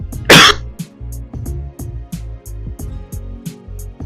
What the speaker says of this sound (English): Oh man, I'm gonna cough right now.